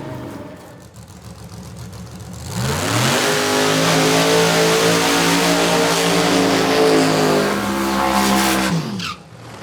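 A Corvette small-tire drag car at Beech Bend Raceway roars up loudly in the left lane, engine revving hard and climbing steadily in pitch for several seconds before cutting off abruptly.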